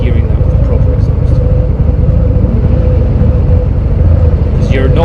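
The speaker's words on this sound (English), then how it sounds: "listen to the engine now that we're going slow. Hear that at full exhaust volume" A 2023 Harley-Davidson Sport Glide 107 motorcycle rolls along slowly, its engine and exhaust producing a loud, steady low rumble heard from the rider's position, with wind noise and no speech.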